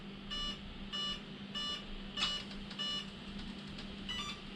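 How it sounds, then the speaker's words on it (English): Short electronic beeps from an Arrma Infraction V2 RC car repeat in a steady rhythm, bright and tonal over a low background hum, with no voices. "See if we get the beeps now."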